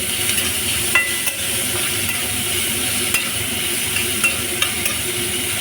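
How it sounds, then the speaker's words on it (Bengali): Steady crackling sizzle of onions frying in oil, with a few faint stirring scrapes and clinks; no voices. "ফোড়নটা ভাজা হয়ে গেছে এর মধ্যে আমি পেঁয়াজটা দিয়ে দেব"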